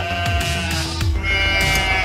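A goat bleats in a wavering, voiced cry across about two seconds, fairly loud and close, at a market stall in California selling fried sapsap fish and goat heads.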